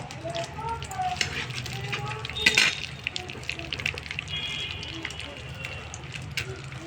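Bay leaf and two dried red chillies fry in hot oil, a continuous low crackling sizzle with a brief sharper burst midway, accompanied by some background talk.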